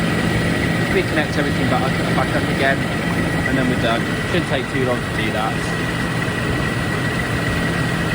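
A Rover SD1 engine idles steadily during a tune-up after new spark plugs and HT leads, a low continuous hum running beneath someone talking close by.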